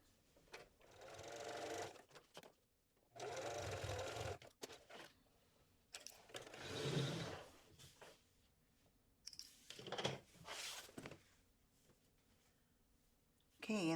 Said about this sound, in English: so I'm going to sew it again